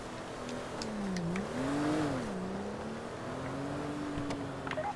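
A prison bus engine in a video game hums and shifts pitch as it drives and accelerates, steady and fairly close, with faint clicks and game-like effects over it.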